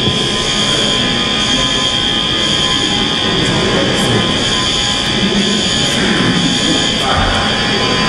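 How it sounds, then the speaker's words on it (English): A fire alarm sounds in a courtroom, a steady, loud electronic tone held unbroken throughout, with faint room noise beneath. "That's a fire alarm, folks."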